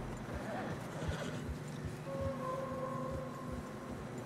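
Steady, rhythmic hoofbeats of horses trotting through snow in the video game Red Dead Redemption 2, with a faint sustained tone and low rumbling ambience underneath.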